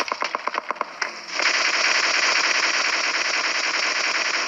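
Rapid gunfire from a battle royale shooter game with Kar98 rifles. A burst of distinct close shots crackles for about a second and then merges into a loud, sustained stream of automatic fire.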